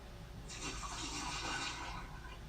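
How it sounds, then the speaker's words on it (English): Small amount of water poured into an empty bucket, a brief soft splashing gush of about a second that rises and fades, faint and close. "This is an empty bucket. Now, I'm going to add a little water."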